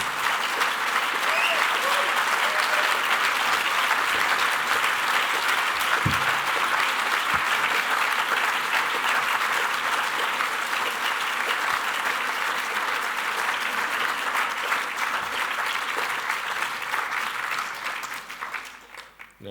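A large audience at an architecture awards ceremony applauds in sustained, dense clapping that holds steady for most of the stretch before tapering off at the end.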